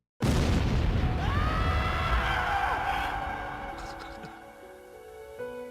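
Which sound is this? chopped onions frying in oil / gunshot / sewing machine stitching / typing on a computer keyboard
gunshot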